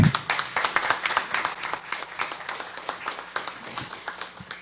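A modest audience at a public hearing in a city council chamber applauds the DEPUC staff with clearly separated, moderately loud hand claps forming a steady round that thins slightly toward the end.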